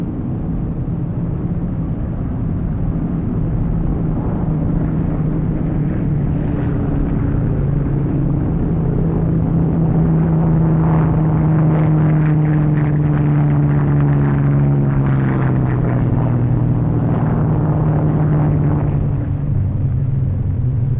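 RAF squadron aircraft taking off from an aerodrome, a loud continuous engine drone with rising and falling harmonic tones that swell toward the middle and fade late, no voices over it.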